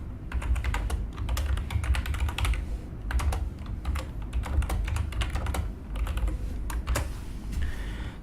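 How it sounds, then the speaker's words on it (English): Keys clatter steadily on a computer keyboard as a message is typed into an Android text-to-speech demo app, a fairly close run of quick irregular clicks over a constant low background hum, with no voices. "So here I'm going to type some message."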